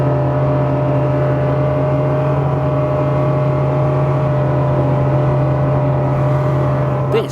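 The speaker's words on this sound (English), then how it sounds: "I'm turning at 30 knots under acceleration." A superRIB 27 motorboat turning at 30 knots under acceleration, its engine a loud, steady, close drone with rushing water and wind noise throughout and a brief rustle near the end.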